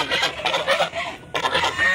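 Chickens and other fowl on a farm beside a fish pond make a busy run of clucking and squawking bursts, fairly close and rising and falling irregularly, with no speech.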